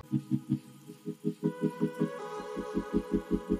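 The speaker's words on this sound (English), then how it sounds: "We're going to go over to the sewing machine now and stitch this down." A sewing machine stitches in a rapid, even thumping rhythm, its motor humming steadily as the pace picks up slightly partway through.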